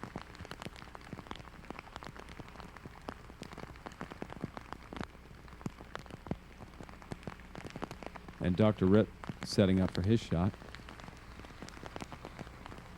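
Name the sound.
rain falling on a disc golf course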